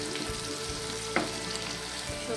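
Spice paste sizzling in a pan while being stirred, a steady close frying crackle with a few faint scrapes and knocks of the spoon against the pan.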